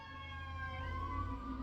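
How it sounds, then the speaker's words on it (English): An ambulance siren wails through a small town as it passes, its rising and falling tones steady and fairly distant over a low rumble of traffic, with no voices. "And that was the ambulance going by."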